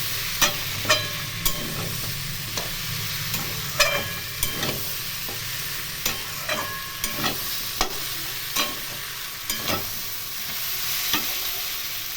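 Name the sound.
stirring mixed vegetable sabji in a pan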